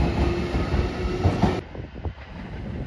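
A JR Shikoku 7200 series local electric train on the Yosan Line runs past, steady and loud rumbling with rhythmic wheel clatter, easing and thinning toward the end as it moves off.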